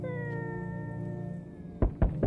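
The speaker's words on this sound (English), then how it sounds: "I heard cat" A single drawn-out cat meow in a video game, soft and close, gliding slowly downward before two or three dull thumps.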